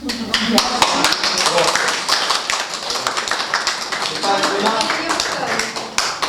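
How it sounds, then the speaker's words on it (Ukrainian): Visitors at a photo exhibition on Armenian heritage in Zhytomyr clap together after a guided tour, a brisk, fairly close burst of hand claps that continues steadily throughout. "Відвідувачі уважно слухають історію кожного з експонатів, а по завершенню екскурсії аплодують."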